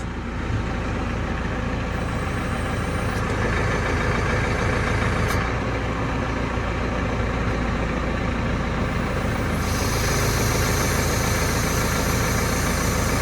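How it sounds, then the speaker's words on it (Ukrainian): A self-propelled crop sprayer's engine idles steadily and fairly loud, a constant low rumble with a hissing high whine that brightens near the end, with no talking. "Зараз прямо розкладаємося і запускаємо самоприскач."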